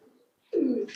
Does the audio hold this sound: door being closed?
no